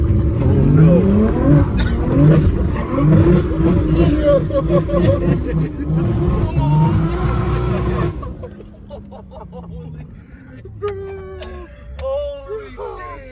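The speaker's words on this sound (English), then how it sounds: "Valtronic exhaust" A 900 whp BMW G80 M3 with the S58 engine and a Valtronic titanium exhaust with open dumps revs loudly in repeated rising bursts, then drops away. Excited voices talk over and after the revving.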